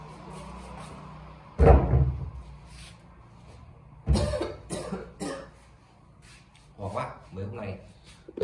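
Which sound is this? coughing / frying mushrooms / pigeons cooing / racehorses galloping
coughing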